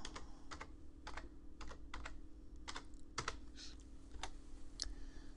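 Computer keyboard typing up close: a quiet run of irregular key clicks with short pauses, set against a faint steady background hum.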